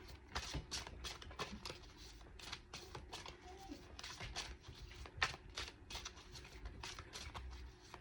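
A deck of cards is shuffled by hand, with rapid crisp riffles and shuffles repeating in quick, irregular bursts, heard close but quietly in a calm indoor room.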